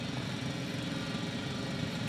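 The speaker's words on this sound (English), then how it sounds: "It's a drill." A large drill runs in the video game The Invincible, a loud, steady, rumbling mechanical drone that holds without a break and carries no voices.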